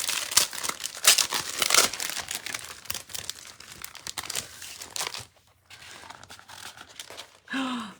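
Specialty foil-backed paper sealed in plastic packaging crinkles and rustles under handling, with a steady run of crisp crackles and a short pause near the end before a final rustle.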